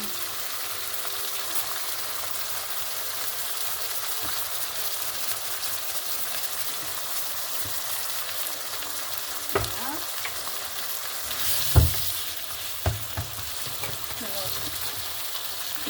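Food frying in a pan with olive oil and Guérande salt, a steady close sizzle and crackle, with a few louder scrapes and knocks as pieces are turned.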